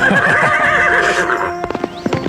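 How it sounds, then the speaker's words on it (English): A horse whinnies in a long, loud neigh, then its hooves clip-clop in a short run of distinct, uneven steps as it sets off. "And as Thunder neighs, Conan laughs, and the two set off."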